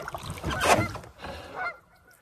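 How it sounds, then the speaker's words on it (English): A goose honks near its nest at a lakeside campsite on a canoe route, giving two loud, harsh calls close by, the first stronger, with no talking. "there's a goose nest, like 20 feet from the tent pad"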